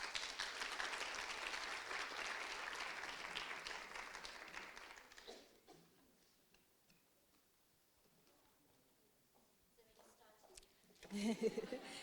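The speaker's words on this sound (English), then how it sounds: "Please give them a round of applause." Audience applause at a university dialogue event, a dense, sustained clapping that fills the first five seconds, then fades to quiet room sound before a brief loud burst near the end.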